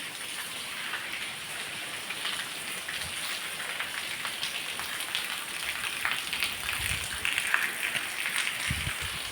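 Heavy rain pours steadily onto surfaces in a village, a dense, unbroken hiss with occasional louder drips and thumps nearby.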